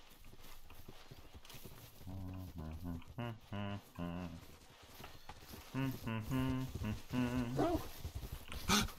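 A hunting dog in theHunter: Call of the Wild whines and yelps in two clustered bursts of high, tonal cries, fairly close and prominent.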